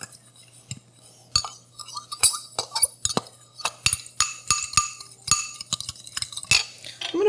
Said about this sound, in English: So I'm just going to stir this together.